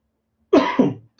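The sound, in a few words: throat clearing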